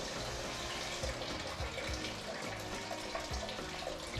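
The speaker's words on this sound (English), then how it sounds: "That's a lot of antifreeze over in there." Antifreeze draining out of the side tank of a Subaru GC8 radiator, a steady faint trickling and splashing of liquid running continuously.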